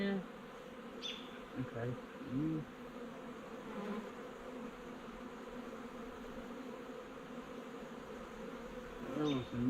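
Honeybees from a hive in a tree that fell in a storm hum in a steady, dense buzz, with individual bees droning close past at times; a person briefly speaks.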